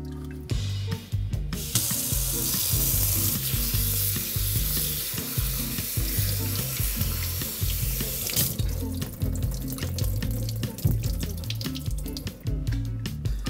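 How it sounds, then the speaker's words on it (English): Hot water running steadily over vinegar-curdled cheese curds for queso blanco, a continuous loud hiss and splash, briefly lighter near the start, with a faint low rhythmic clatter beneath. "we're going to pour some hot water over this just to get that flavor out of the cheese curds that we have"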